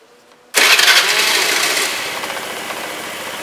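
Motorcycle fitted with an HHO generator feeding the intake, starting abruptly after a short quiet moment. The start is a loud burst that settles into a steady, slightly rattling idle.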